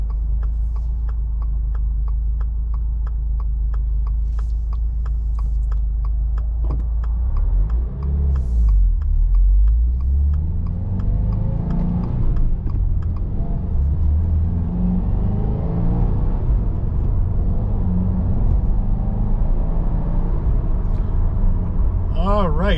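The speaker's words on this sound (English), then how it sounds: "All right, so we are driving the WRX" Inside a 2022 Subaru WRX with a 6-speed manual, a steady low engine and road rumble fills the cabin while it drives, with a swelling rev midway and a person talking over it.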